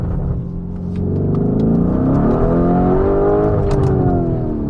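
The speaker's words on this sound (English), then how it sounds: "So now we are driving the Urus. The car is set in Corsa mode" A Lamborghini Urus in Corsa mode on a wet, cold road, its engine droning loud and steady from inside the cabin as the revs climb and hold, with no voices.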